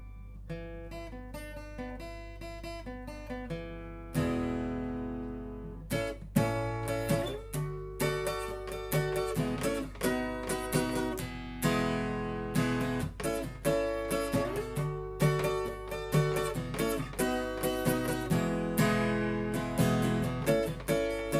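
A guitar strums and picks through the repeating chord progression of a song, at first sparse and then fuller and rhythmic, played alone and close.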